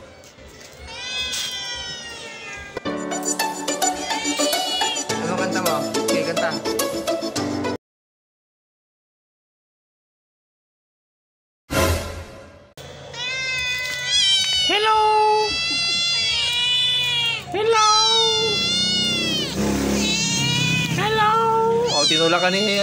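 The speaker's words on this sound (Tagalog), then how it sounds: "may bago na ng pusa" A pet cat meows repeatedly in a home, loud and close, with drawn-out rising and falling cries; a pause of silence splits the sequence, and a voice speaks alongside some of the calls.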